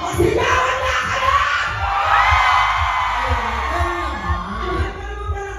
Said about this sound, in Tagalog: Sigawan na kayo!